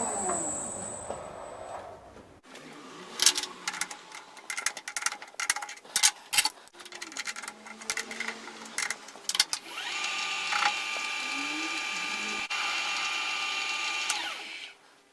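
Metal lathe facing a flange to length, with intermittent cutting and scraping bursts, some whining tool passes and a steadier high machining tone near the end, heard close with no voices.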